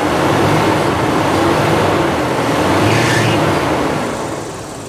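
A 2004 Toyota Zace GL engine idling smoothly and quietly, heard close as a steady broadband hum with a soft whine, no voices, easing slightly toward the end.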